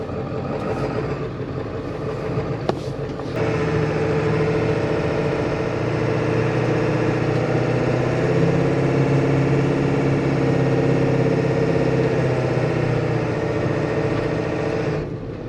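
A 93-year-old truck with a smokestack exhaust pipe, its engine running steadily during a ride, a loud continuous low rumble that rises after a few seconds and holds even to the end.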